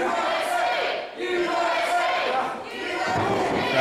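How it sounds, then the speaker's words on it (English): A wrestling crowd chants in rhythmic waves, loud and reverberant, rising and dipping as the chant repeats, with a commentator's voice faint beneath. "USA! USA! Crowd rallying behind Fabuzio."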